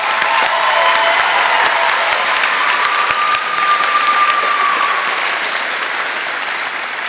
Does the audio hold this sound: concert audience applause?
yes